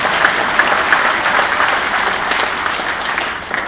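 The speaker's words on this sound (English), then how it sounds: "Give a big round of applause for Mrs. Patsy Smith." Audience applause fills a hall at a sports hall of fame induction ceremony, with steady, dense clapping from a large crowd that holds at an even loudness throughout.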